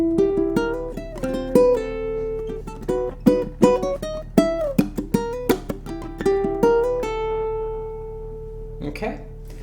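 Ukulele picks out the second section of the Munsters theme melody, a bouncy run of plucked notes with a few strummed chords, played up close and alone for about ten seconds.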